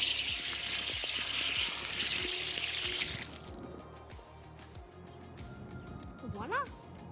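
A garden hose blasts water onto a dirty air filter, a loud rushing spray for about three seconds that cuts off abruptly, leaving quieter dripping, clicks and a short vocal sound.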